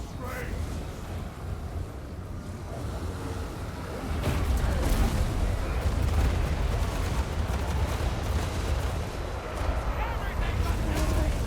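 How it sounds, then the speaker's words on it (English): Hell cannon artillery shots in Total War: Warhammer 2: dense battle noise that thickens into heavy rumbling blasts about four seconds in, with someone talking throughout. "we've got the lovely ladies, who are currently getting pummeled in the face by hell cannon shots"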